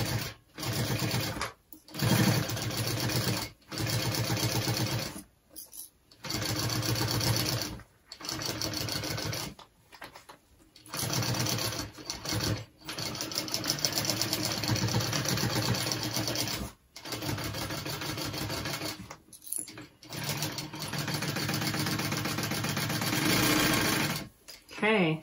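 Sewing machine stitching a convertible backpack, running in long steady bursts with brief stops between seams, loud and close, with people talking intermittently over the whirring.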